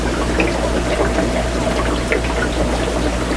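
Water drains steadily from a brine shrimp hatchery, a continuous close trickling and gurgling stream of moderate loudness with no voices.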